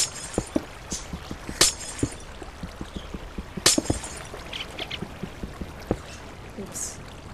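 Ice blocks breaking in Minecraft, a steady string of small sharp cracks and clicks with a few louder glassy shatters, mid-level and close, under a soft continuous watery background.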